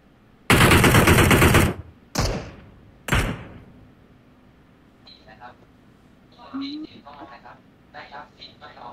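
PUBG Mobile gunfire, a sustained loud burst of automatic fire followed by two single sharp shots, then quieter clicks and game sounds as people talk over it.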